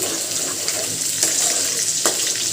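Spice masala with chilli powder and salt fries in mustard oil on a new induction cooker, a close steady sizzle broken by a couple of sharp stirring scrapes, with no talking.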